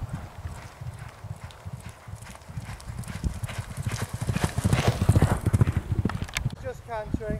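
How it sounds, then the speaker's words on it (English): Racehorses cantering at a racecourse, their hooves drumming in a quick, steady clip-clop under continuous commentary, with a brief whinny-like call near the end. "Just cantering, Sunblazer"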